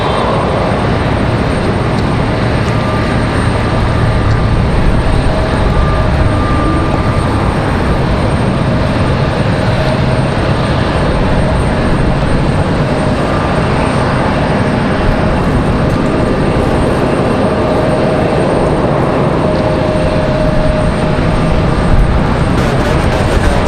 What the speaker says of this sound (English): Alright, Breeze Airways touching down. Another beautiful A220 arrival.